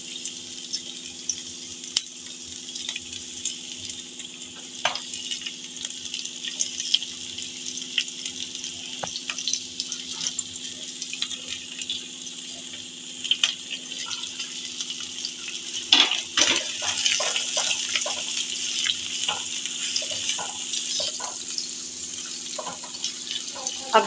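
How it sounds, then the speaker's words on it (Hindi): Onions frying in hot oil in a pan while cooking chicken jalfrezi: a steady, bright sizzle runs throughout, swelling louder and busier partway through as the pieces are stirred. "ऑयल हमारा गर्म हो चुका है। इसके अंदर हम डालेंगे प्याज।"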